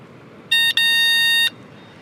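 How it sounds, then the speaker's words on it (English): Loud electronic buzzer horn on a Fiido T1 Cargo 750W utility eBike, sounding as one short burst, a tiny gap, then a longer sustained tone, close and piercing against quiet surroundings. "So this is a very loud buzzer."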